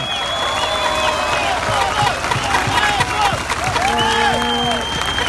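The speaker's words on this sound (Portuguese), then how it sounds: "uma salva de palmas para todos os que lutaram e" A dense crowd at an outdoor march in São Bernardo do Campo claps and cheers steadily throughout, with scattered whistles and shouts rising over the continuous applause.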